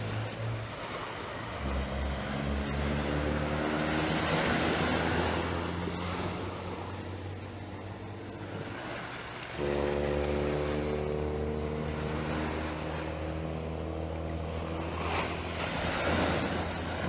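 Sea waves roll and wash on the west coast of Barbados at daybreak on a calm morning, a steady broadband surf with low rumbling swells and wind noise, one wave break fading mid-clip before the next surges in.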